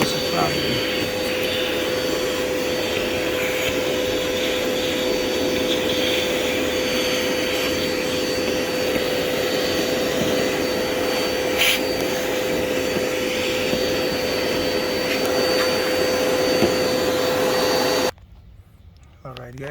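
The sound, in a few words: vacuum cleaner running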